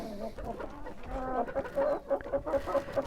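Close clucking from a rooster, a series of short repeated clucks with some other bird sounds in the background.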